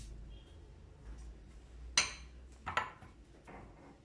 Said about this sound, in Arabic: هبتدي كده احطها واقلب كده الزبدة عليها